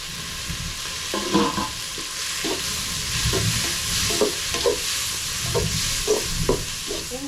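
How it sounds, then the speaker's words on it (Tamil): Onions and tomatoes sauté in oil with a continuous close sizzle, broken by regular scraping and stirring strokes of a spoon against the pan. "இப்போ வந்து வதங்கிட்டு இருக்கு வெங்காயம்"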